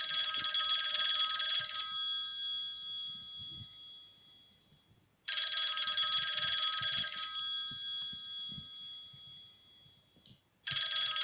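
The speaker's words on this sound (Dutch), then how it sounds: "De 14e, dat is Old Oude School ringtone." An old-school telephone ringtone trills loud and close in two long bursts with a pause between, starting a third, with no voices over it.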